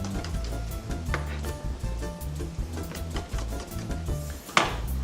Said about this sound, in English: So we'll cut the spring onion down to the ends.